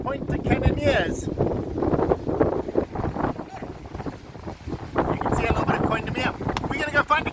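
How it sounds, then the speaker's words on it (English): Strong gusty wind at Pointe aux Canonniers, Mauritius buffets the microphone in loud, uneven roaring bursts, with a voice speaking over it. "Welcome to a super windy Pointe aux Canonniers."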